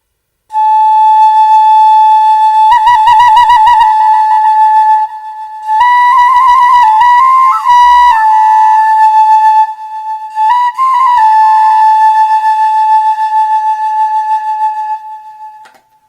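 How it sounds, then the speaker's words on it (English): A high-pitched three-hole whistle with three small finger holes plays a steady, piercing tune of sustained notes, with short trills and shifts in pitch, loud and close, and no talking over it. "This is like a three-hold whistle, more so than a flute."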